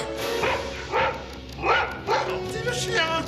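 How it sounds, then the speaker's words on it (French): A dog barks in several separate, fairly loud bursts, spaced about a second apart, under and between voices speaking French in an indoor scene. "Gentil le chien, couché."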